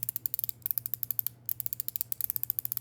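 Rapid, crisp clicking from a YEDC Ji Li magnetic fidget slider in quick bursts, dozens of sharp snaps with brief pauses between runs, close and clean with no talk.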